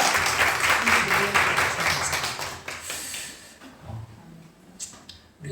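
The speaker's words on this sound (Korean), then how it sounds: "우리 환영의 박수는" A church congregation applauds in welcome during a service, a dense burst of clapping for about three seconds that fades into scattered claps and quiet room noise.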